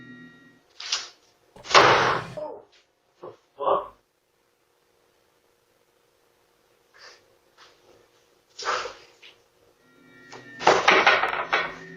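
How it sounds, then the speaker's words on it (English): A door is yanked open aggressively at night, caught by a Ring doorbell camera, giving several sharp, loud thuds and rattling bangs in separate bursts with quiet gaps between them. "One of the doors is aggressively yanked."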